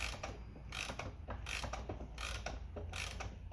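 A key winds the mainspring of a Daniel Pratt & Sons iron-front 8-day mantle clock, giving close, crisp ratchet clicks in an even rhythm of about one burst every two-thirds of a second.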